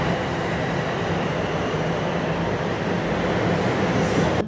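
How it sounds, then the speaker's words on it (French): Steady rumble of a Paris metro train standing ready to leave, a continuous dense low roar with rail noise and no voices, constant in loudness throughout. "je suis dans le métro, on va partir"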